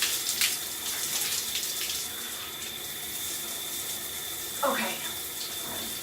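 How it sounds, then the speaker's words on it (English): Shower water runs steadily while hair is soaked, a continuous close hiss of spray with one brief spoken word. "you're gonna wanna go in and heavily saturate your hair with the water"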